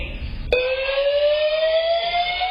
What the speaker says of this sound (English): With the fire alarm blaring, Asia Simmons and her 10-month-old son Amir